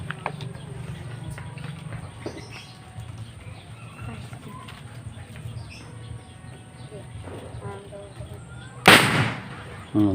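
A single sharp, loud bamboo cannon blast rings out in Pampanga near the end of a stretch of outdoor chatter and background noise, followed by the start of another.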